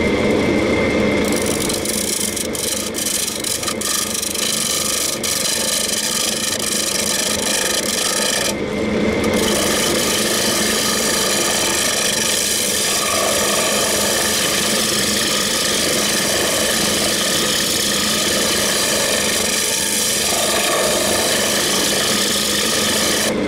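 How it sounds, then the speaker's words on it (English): A woodturning tool cuts into an old painted bowl spinning on a lathe, producing a loud, continuous rasping scrape with a steady motor drone beneath and brief catches where the tool bites harder. "I'm starting to get some nice shavings off it now"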